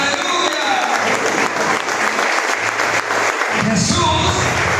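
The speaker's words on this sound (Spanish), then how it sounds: "Un aplauso a Dios aquí en la tierra" A church congregation bursts into sustained applause, dense and loud throughout, with a voice briefly rising over the clapping near the end.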